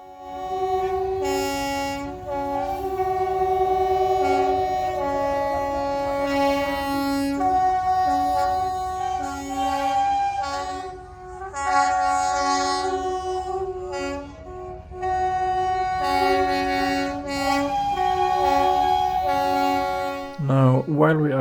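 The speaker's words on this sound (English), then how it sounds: "We arrived just in time to witness the great whistle off at the beginning of the day" Steam and diesel locomotive whistles and horns sounding in overlapping, sustained blasts at a large heritage railway gathering in Derby, moderately distant, with several tones starting and stopping over one another.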